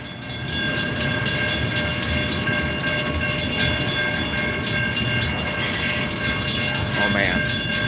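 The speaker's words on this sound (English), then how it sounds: "He's got the auto train!" An auto train rolls past on a railroad line, a loud, steady rumble with rhythmic clicking of wheels and a sustained tonal whine, a horn sounding briefly near the end.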